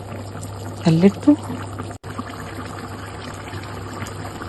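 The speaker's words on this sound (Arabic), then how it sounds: "ضفت عليهم مية مغلية" Boiling water poured over rice for Egyptian koshari, a short pouring splash lasting about a second under a person's speech, with a steady low hum behind it.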